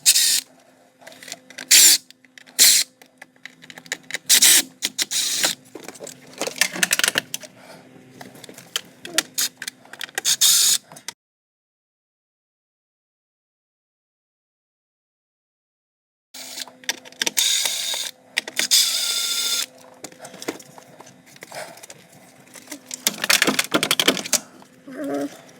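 A T10 Torx bit backs out screws from the stock steering wheel of a Can-Am side-by-side. Close, irregular bursts of ratcheting, clicking and rattling are broken by a long quiet gap before the clatter resumes.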